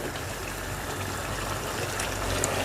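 Chicken with onions and garlic-ginger paste frying in a karahi, giving a steady, dense sizzle that hisses on without pause and grows slightly louder toward the end.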